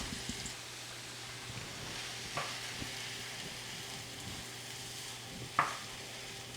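Lentils and onions cook in a pot, a quiet continuous sizzle with soft stirring scrapes and an occasional faint clink of a utensil.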